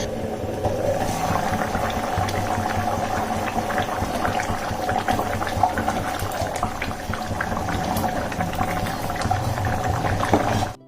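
A covered pot of mutton and drumstick curry simmers with a steady bubbling, soft gurgling texture, close and continuous for about eleven seconds with no talk over it.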